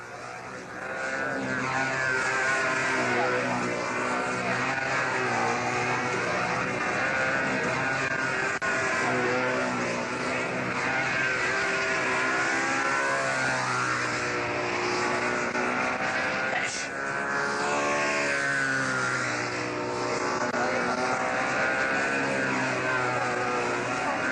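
A control-line model aircraft engine swinging a 13 by 5.5 handmade wood propeller at a world championship flying event, a loud, steady high-pitched buzz that runs throughout with slight rises and dips as the plane circles.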